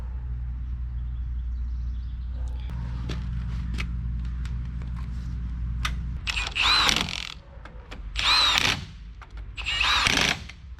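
Three loud bursts of an impact wrench on front leaf spring bolts of a Ford Super Duty truck, each a second or so of rattling hammering, following a quieter stretch of low mechanical hum and light clicks.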